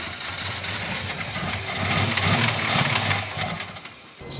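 A Ford XF Falcon with a new carburettor revving as the accelerator is blipped, a loud close engine rising and falling in rough surges, then dropping near idle at the end.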